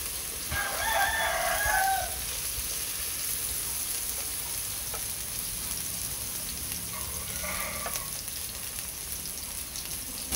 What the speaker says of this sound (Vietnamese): chúng ta chiên không cần phải để quá nhiều dầu